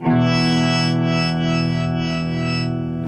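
Electric guitar through an octave effect pedal, with an expression pedal rocked toe-down to blend in an upper octave, sustained chords ringing with a shimmering, slightly driven tone, steady and upfront with no talk.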